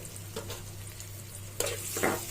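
Onions fry in a pan as a quiet, steady sizzle with a low background hum, and a couple of soft stirring scrapes come near the end, with no talking.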